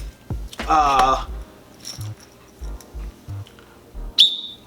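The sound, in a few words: safety whistle blown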